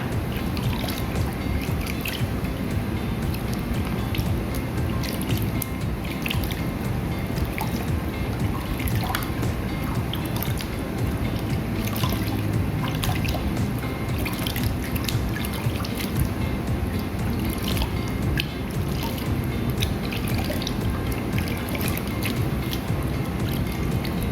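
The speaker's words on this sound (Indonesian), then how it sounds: "Sekarang kita langsung bilas ya." Water splashes and trickles steadily as a face is rinsed after washing with beauty bar soap, a continuous close, wet dribbling with frequent small drips and splashes throughout.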